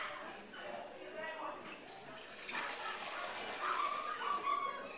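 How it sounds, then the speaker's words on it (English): Water pours into a beaker in a school lab, a soft splashing gush that rises in the second half, with clinking glass and a voice talking over it. "I'm going to fill this beaker with a little bit of water and just get that heating up,"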